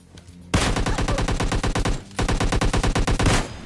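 Rapid automatic gunfire from PUBG, two long bursts of evenly spaced loud shots separated by a brief pause, close and dominant with no talking.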